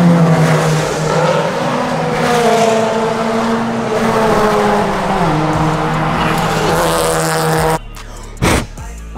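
An $800 Acura Integra race car on track, its engine loud and close with rising and shifting revs and tire squeal, cutting off abruptly near the end with a short burst after.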